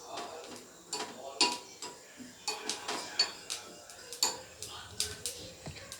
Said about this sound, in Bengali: এটাকে শুকনো খোলায় খুব ভালো করে টেলে নিয়ে এটাকে ড্রাই রোস্ট করে নিতে হবে।